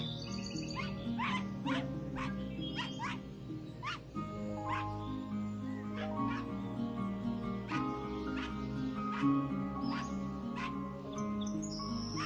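Rufus, a dog in a video game, gives a string of short yips and barks over a steady bed of game music and ambient tones, the sharp calls repeating at irregular intervals throughout.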